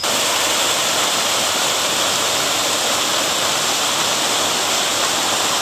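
Level 6 of Krathing Waterfall in Chanthaburi, Thailand, roars as a constant dense rush of falling water, loud and close with no pauses.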